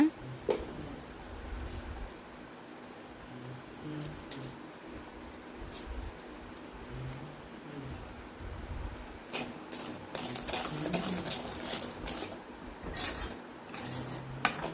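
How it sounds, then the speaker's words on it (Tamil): Spinach in a pan is stirred with cumin powder, coriander powder and salt, making a long run of soft scraping and rubbing with a low simmering hiss underneath and sharper clinks and scrapes toward the end. "சீரகத்தூள் தனியாத்தூள் உப்பு இந்த நாலும் சேர்த்து நல்லா கலந்து விட்டுறலாம்"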